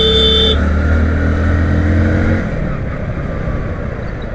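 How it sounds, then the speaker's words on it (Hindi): Engine drone of a motorbike in bumper-to-bumper city road traffic, steady and close, with a higher whine fading after about half a second and the engine note easing down past two seconds into a lower hum. "देखो फिर से सेम वही ट्रैफिक।"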